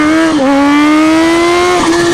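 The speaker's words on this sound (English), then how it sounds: "Alright, we'll give it a little gas." A 2020 Kawasaki Z H2 supercharged streetfighter motorcycle accelerates under throttle, its loud, close engine note holding a steady, slowly rising pitch with a brief dip and shift partway through, no voices over it.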